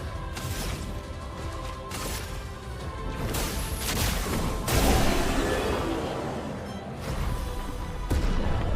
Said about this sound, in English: Cool girls don't look at explosions.